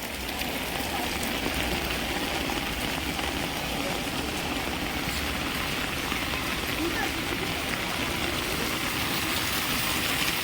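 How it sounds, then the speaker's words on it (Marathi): Steady rain falls outdoors as a constant broadband patter and hiss, with people talking. "आत्ता पाऊस पडायला लागला"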